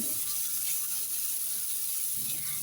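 Chopped ginger, chili, onion and garlic stirred in hot oil in a pan for shrimp white sauce pasta, a steady close sizzle and frying hiss throughout, with soft scraping stirs and no talk.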